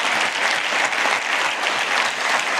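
An audience gives steady, continuous applause at an event honouring UFC fighter Kamaru Usman, a dense even wash of clapping with no voices over it.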